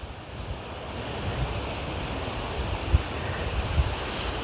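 Sea waves wash onto a sheltered beach at Matagorda with a steady, soft surf rush, gusty wind buffeting the microphone, and a couple of brief thumps.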